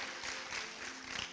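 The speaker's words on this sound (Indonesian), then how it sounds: "berikan tepuk tangan yang luar biasa" A church congregation claps during a Christmas sermon, producing a steady, dense wash of applause that stays fairly even and moderately faint across the brief moment, with no voices over it.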